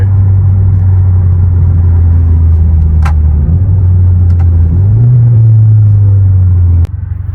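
A BMW 330i with a four-cylinder engine accelerates, heard from inside the car as a loud, steady low engine drone that lifts slightly near the end before cutting off abruptly.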